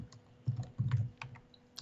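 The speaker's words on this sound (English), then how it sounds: "Typing away." Rapid clicking of computer keyboard keys during a fantasy football call-in, a few quick bursts of close typing with short pauses and no talk over it.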